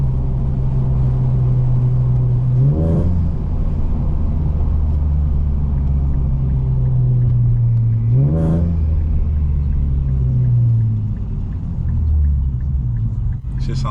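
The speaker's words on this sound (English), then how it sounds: "I miss hearing that turbo whistle" Turbocharged car driven on the road, a loud continuous low engine rumble with intake roar and two rising rev sweeps as it accelerates through gears, heard from inside the car.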